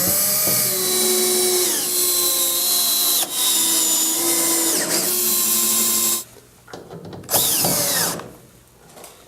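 Power drill driving screws into a CSW4612 ceiling sidewall inlet housing in a poultry house, a loud steady whirring run with pitch shifts and short pauses, then quieter bursts near the end.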